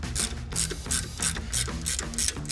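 A ratchet wrench turns a truck's serpentine belt tensioner, giving a close, steady series of quick clicking bursts, about five strokes in a regular rhythm.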